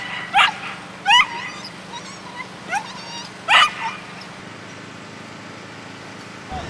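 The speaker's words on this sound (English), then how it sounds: "she'll indicate to me that there's someone there by barking" A search and rescue dog gives four sharp, separate barks spaced about a second apart, close and loud, then falls quiet over a low background hum.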